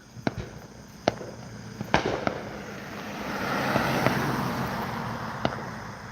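Fireworks burst far off on a muggy night, sharp scattered pops and booms spaced a second or two apart over a soft steady rumble, with no talk.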